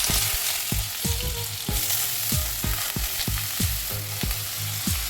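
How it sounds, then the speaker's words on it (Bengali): Potatoes fry in a hot pan in a home kitchen, a continuous sizzle broken by repeated clanking stirs and scrapes of a utensil at a quick, uneven rhythm, close and moderately loud with no talk. "সবজি বানানোর জন্য মা এখানে বসিয়ে দিয়েছে আলু ভাজা"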